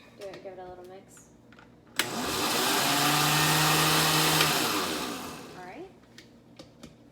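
A mixer beats heavy cream into a mixture in a bowl. The motor spins up and holds a loud, steady whir for about four seconds, then winds down, with brief speech before and after.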